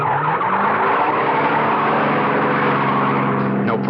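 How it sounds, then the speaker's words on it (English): A getaway car's tires squeal in a loud, sustained skid with engine roar beneath, a continuous screech lasting several seconds, made as a sound effect for a radio drama. "I shoved that getaway car into gear and took off."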